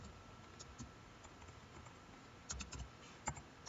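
Light tapping on a computer keyboard while writing SQL, faint soft keystrokes in short uneven clusters over a quiet room hum, with no talk.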